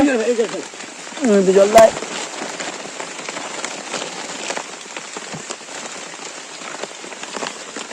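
Rain drumming on a picnic tarpaulin, a steady close patter with scattered sharper drops, while a voice speaks briefly at the start before the rain carries on alone.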